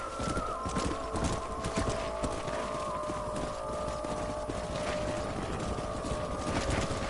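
Horses in Red Dead Redemption trotting with continuous clip-clop hoofbeats and an occasional whinny, layered over a steady drone of game ambience, loud and unbroken throughout.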